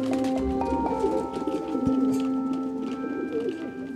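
Pigeons cooing softly in a steady, repeated low rhythm, with other bird calls and faint background sounds mixed in; no voices.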